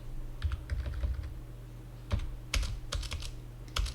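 Computer keyboard keys tapped while entering school fee records in Tally Prime accounting software, bursts of close, crisp clicks with brief pauses and a low steady hum beneath.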